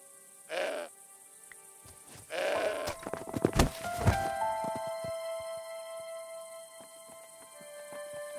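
A goat in the adventure video game Broken Sword 5 bleats twice, close and fairly loud, followed by clattering in-game sound effects and a sustained musical tone, with no talk.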